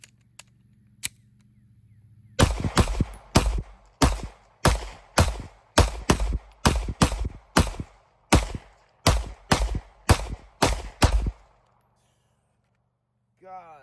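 A Ruger RXM pistol fires a steady string of about twenty sharp, loud shots at an outdoor range, evenly paced with brief pauses, after a couple of isolated early reports and followed by quiet.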